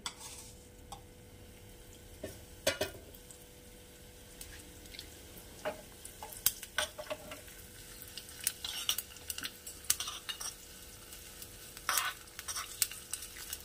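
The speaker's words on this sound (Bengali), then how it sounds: "তেলটা গরম হয়ে গেছে, এখানে দিয়ে দেব 2 চামচ আস্ত জিরে।" Steady soft sizzling of whole cumin seeds in hot white oil, broken by occasional sharp clicks and scrapes of a utensil stirring the pan.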